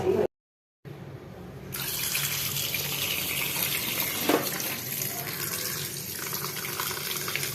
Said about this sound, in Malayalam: നമുക്കിത് നന്നായിട്ട് കഴുകി എടുക്കാം